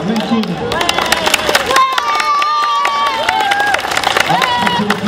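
Cat show audience clapping and cheering for a Maine Coon, a burst of crowd applause and whoops at close range, with voices talking over it.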